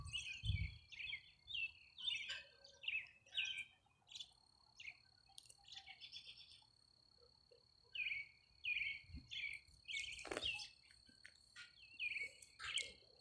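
Birds chirp in repeated short bursts of bright tweets, with a faint insect trill in the background and brief pauses between phrases.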